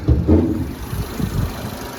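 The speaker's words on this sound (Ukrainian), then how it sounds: "Давайте послухаємо двигунчик." A Renault Megane car engine idles with a low, even rumble and soft rhythmic pulsing, heard up close with no talking.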